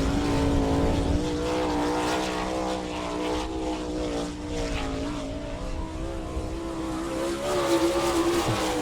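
A sprint car, number 7 sponsored by Peterbilt, runs a qualifying lap at Attica, Ohio, its engine a loud, sustained high-pitched roar that rises and falls slightly as it circles the dirt track.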